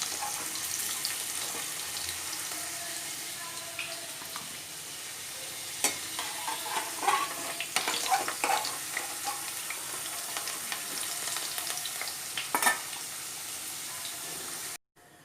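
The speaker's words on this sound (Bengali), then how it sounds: "আলুগুলো আগে ভালো করে ভেজে নিই।" Potatoes frying in oil, a steady close sizzle with scattered louder crackles and scraping stirs in the middle, then an abrupt cut near the end.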